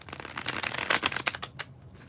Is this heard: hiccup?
no